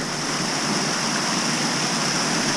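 Water gushes loudly and constantly through a leaky canal lock, a dense roaring rush with no breaks and no voices.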